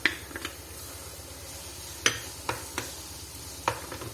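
Chopped tomatoes and ginger garlic paste fry in a pan for dhaba-style chana dal, a soft low sizzle broken by a few sharp spoon taps and scraping stirs, fairly quiet and close.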